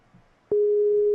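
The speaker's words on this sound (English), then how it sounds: "now I got ringing in the background" A phone tone rings in the background, a steady, loud electronic beep that starts suddenly after a quiet moment and holds without a break, with no voices.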